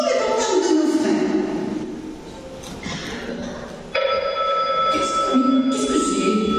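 Several phone ringtones go off in trouser pockets on stage during a play, electronic tones ringing together over a busy room with voices, loud and close, restarting sharply partway through.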